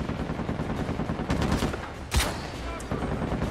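In the PS4 game Uncharted 4, a single sharp sniper rifle shot cracks out loud and close amid a busy backdrop of other gunfire and battle noise.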